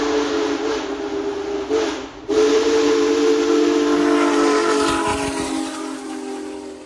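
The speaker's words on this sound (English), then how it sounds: "That whistle blast about reprogrammed my heart." A Union Pacific Big Boy 4014 steam locomotive sounds its whistle at track speed in the Ozarks: a loud, sustained blast with a short break, then a long continuous tone that slowly fades.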